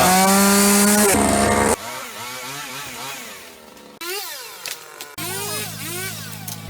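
A chainsaw cuts large branches while a pine beside a grave is pruned, the engine loud and close in sustained bursts that change pitch as it bites into the wood and revs between cuts.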